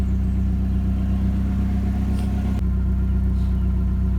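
A 1992 Nissan 240SX S13 with an SR20DET engine idles steadily, a continuous low mid-pitched hum with a faint click partway through, close and alone with no talking.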